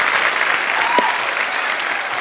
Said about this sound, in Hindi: जोरदार तालियां यार।